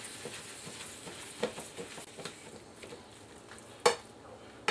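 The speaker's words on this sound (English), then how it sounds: "I'm going to go ahead and start mashing up the hamburger." Hamburger meat browning in a pan is stirred and mashed, with soft sizzling and scraping throughout and a sharp utensil clank near the end, no talking.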